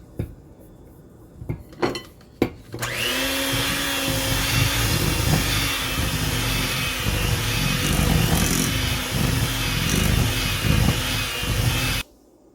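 An electric mixer beats flour into creamed cookie dough for cherry pie white chocolate cookies, starting after a few clinks and running loud and steady for several seconds before cutting off abruptly.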